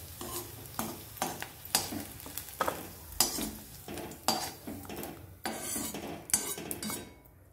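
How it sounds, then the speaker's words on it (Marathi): Onion and garlic sautéing in a hot pan, with rhythmic scrapes and clinks of a spoon stirring against the metal over a steady sizzle, close and fairly quiet. "बघा कांदा आपला जरा परतत आलाय छान"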